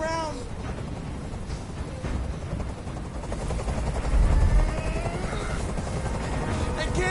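Helicopter in the video game Detroit: Become Human, a continuous close rotor thrum that swells slightly midway, mixed with game sounds and a voice speaking.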